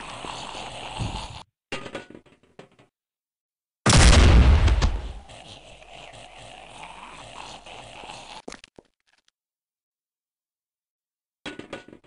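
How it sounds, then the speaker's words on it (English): A grenade blasts in the horror video game Afraid of Monsters, one loud broadband boom that decays into a rumbling tail lasting several seconds, with quieter game noise before it and silence after. "Maybe I can kill them all with a grenade"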